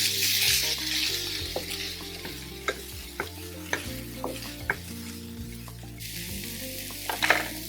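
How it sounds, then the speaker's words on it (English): Onions and garlic fry in a pan with a steady sizzle while a utensil stirs them, giving repeated sharp scrapes and clinks at an uneven rhythm, close and clear with no talking. "we'll go in with the onions and the garlic. Get it moving because you don't want it to burn."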